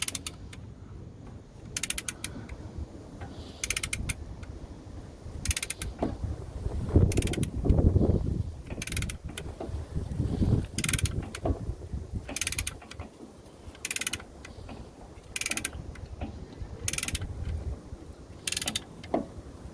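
On a 2019 RAM 1500 Limited, a tool slowly presses the front brake caliper pistons back, giving a series of evenly spaced mechanical clicks and ratcheting creaks over a low rumble, close and moderately loud.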